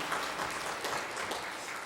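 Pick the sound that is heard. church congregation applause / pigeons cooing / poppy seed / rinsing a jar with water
church congregation applause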